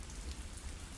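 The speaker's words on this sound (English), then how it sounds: "Not surprising, the rain's coming down hard." Heavy rain pours steadily in the video game Glory Hounds, a dense, even wash of drops drumming on surfaces with no breaks and no voices.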